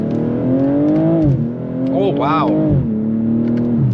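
Volkswagen GTI engine revving hard through aggressive gear shifts, rising and falling in pitch with a couple of rapid upward sweeps and small exhaust pops, while people talk and react in the car.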